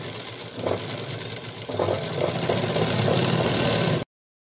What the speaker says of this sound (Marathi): आणि इथून आता आपण जेवढी शिलाई मार्जिन ठेवतो तेवढी ठेवून आपण हे पूर्ण कंप्लीट याला शिलाई मारून घेणार आहे